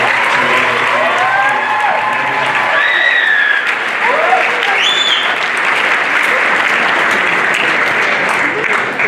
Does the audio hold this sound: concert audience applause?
yes